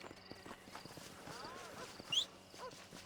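Horse hooves in the video game Red Dead Redemption, a quiet, rhythmic clip-clop of steps at a walking pace mixed with faint background game sounds.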